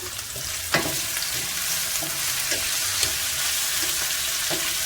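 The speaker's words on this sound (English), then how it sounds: "And I'm sauteing this in the oil." About three cloves of garlic sizzle steadily in hot oil in a pan for a meatless jerk taco filling, with a constant frying hiss and a few light scrapes and taps of stirring spaced through the clip.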